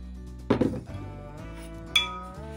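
Coconut atole being stirred in a boiling pot, with a spoon knocking and scraping against the metal pot in a couple of clanking bursts over a low background hum.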